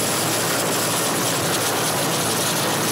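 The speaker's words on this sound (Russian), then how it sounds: "вертолет Хабаровского авиаотряда МЧС приземляется в поселке Амга" An EMERCOM helicopter of the Khabarovsk air detachment lands in Amga village, its rotor and engine roar loud, close and steady throughout, filling the whole clip with dense broadband noise and no voices.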